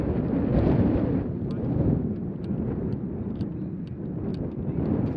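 Strong wind buffets the microphone on the Royal St George's golf course, a steady low roar with gusty swells, while someone speaks over it.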